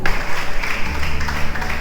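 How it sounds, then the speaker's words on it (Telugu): A classroom of students claps for a classmate, a brief burst of scattered applause from a small group, close and steady. "అందరూ క్లాప్స్ కొత్తందమ్మా"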